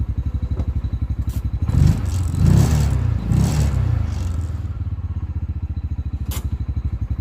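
A Massimo Warrior 700 UTV engine idling with a loping rumble, blipped up into a few loud revs before settling back to a rough idle.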